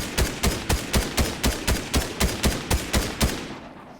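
Rapid gunfire in a video game, about fifteen loud evenly spaced shots in a steady rhythm, fading at the end.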